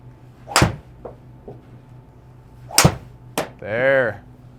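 A TaylorMade Stealth 2 driver strikes a golf ball during a club fitting, giving a couple of sharp, loud cracks spaced apart, then a short rising whoosh near the end.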